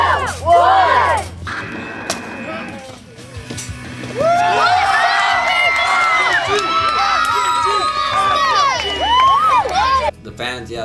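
A large wrestling crowd cheers and screams at ESW Extreme Rumble, with rising excited shouts and whoops swelling into a loud, sustained roar, plus a short burst of yelling at the start.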